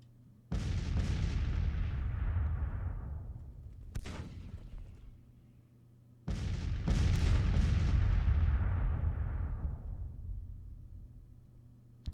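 Six-pounder cannons boom in a Civil War battle game, two heavy blasts that roll and fade slowly, with a sharper shot between them, loud and distant-sounding.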